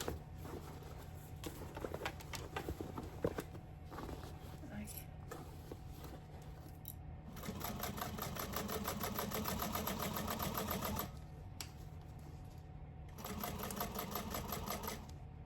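A sewing machine stitches a tote bag in bursts of rapid, even mechanical whirring separated by short pauses, with a voice talking faintly in between.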